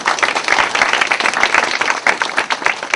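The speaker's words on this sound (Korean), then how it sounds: "다시 한번 박수 부탁드립니다" A company audience at a 2008 New Year's opening ceremony for Pandora TV breaks into dense, loud applause, many hands clapping steadily for three seconds with no one speaking over it.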